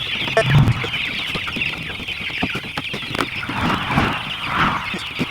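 Farm chickens clucking and squawking as they are moved across a yard, a busy ongoing chorus of near and mid-distance calls with scattered rustling and footsteps, no talk over it.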